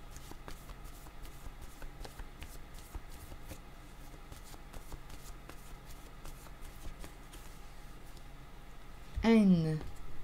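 Guidance cards being shuffled by hand, a soft steady riffling patter held close and quiet, with a short louder tonal sound near the end.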